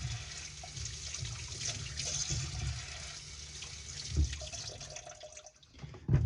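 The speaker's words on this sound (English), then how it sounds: "Give them a little bit of a rinse off." Sliced zucchini gets rinsed under running water at an outdoor grilling spot near the Grand Canyon, a soft steady splashing stream with a few louder gurgles toward the end.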